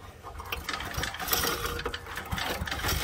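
A small 3-horsepower engine, apparently from 1972, runs with a rapid, rattling mechanical chatter, steady and close with slight rhythmic surges.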